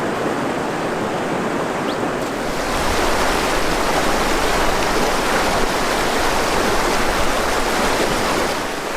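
Loud, continuous roar of rushing creek rapids in the Superstition Wilderness, steady broadband churning water close by, swelling slightly after the first couple of seconds.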